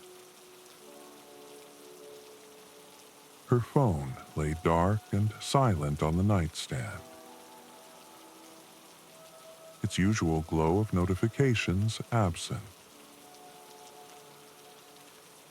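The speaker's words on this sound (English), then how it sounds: "The rain continued its steady song against the roof as she slipped beneath the quilt" Steady rain patters on a cabin roof as a continuous soft hiss throughout, while a calm voice speaks over it in two stretches.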